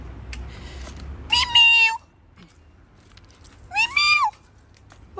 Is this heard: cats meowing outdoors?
yes